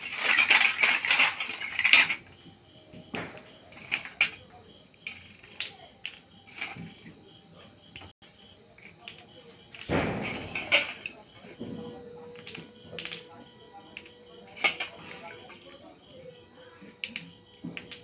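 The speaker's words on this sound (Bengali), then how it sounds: "এদিকে যে চোদ্দ প্রদীপ রেখেছিলাম চোদ্দ প্রদীপটা জল থেকে এবারে তুলে রাখবো" Fourteen small clay oil lamps are lifted out of water one by one, giving repeated clinks, light knocks and wet scraping of earthenware against a vessel, close and fairly loud, with one heavier thud partway through.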